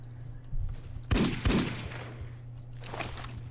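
Gunfire in the blocky online shooter Blockade, two sharp shots in quick succession over a steady game hum, with fainter reports trailing after.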